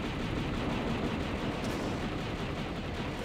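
Steady blasting from a player's weapon at an enemy in Star Wars: Shadows of the Empire, a dense unbroken wash of shots at moderate level with no voices over it.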